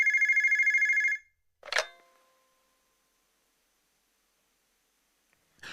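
An office telephone gives one short burst of fast trilling rings, then the handset is picked up with a brief clatter, followed by quiet.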